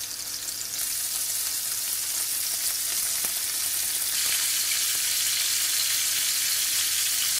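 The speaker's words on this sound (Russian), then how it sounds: "обжариваем капусту на самом сильном огне" Cauliflower sizzles and crackles loudly in hot oil over the highest heat, a steady hiss with occasional pops, close by and with no one talking.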